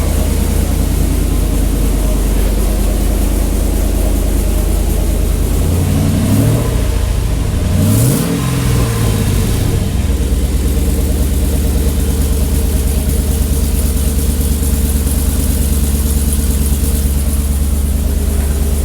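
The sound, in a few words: Chevy truck engine idling with H-pipe exhaust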